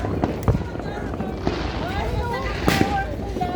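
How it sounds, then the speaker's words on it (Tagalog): New Year fireworks bursting outdoors in a series of sharp pops and bangs, some louder and nearer, over crowd noise with people cheering and talking throughout. "Ayan na, fireworks oh."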